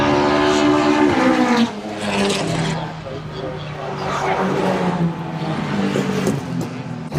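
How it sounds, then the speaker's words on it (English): Classic Ford cars pass on a race track at a Ford show, their engines droning and rising in pitch as they go by, loud and fairly near, with a person talking over the passing noise. "Might be able to get a cheeky shot of the cars going past."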